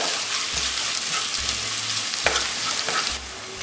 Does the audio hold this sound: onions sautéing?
yes